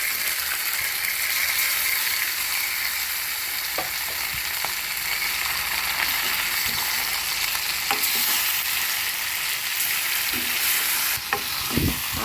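Fish pieces sizzle steadily in hot oil with onions and green chillies in a curry pan, a constant close frying hiss broken by occasional scraping clinks of a spoon stirring.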